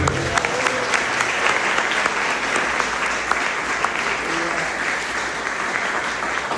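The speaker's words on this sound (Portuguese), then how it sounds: "Quem crê, dê uma salva de palmas para o Senhor" A church congregation gives a sustained round of applause during a worship service, a steady wash of many hands clapping that holds evenly for several seconds at moderate distance.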